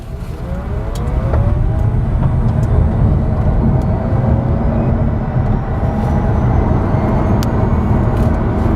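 Electric Chevy Bolt accelerating from a dead stop up a hill, a steady loud rush of road and wind noise with a faint rising motor whine and tyre roar, continuous throughout without any pauses.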